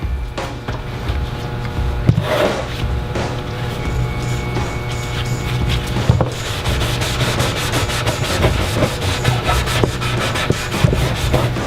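A graffiti-removal mop scrubs and buffs a painted tag off a wall surface, giving a steady, close rubbing and swishing sound with repeated strokes throughout.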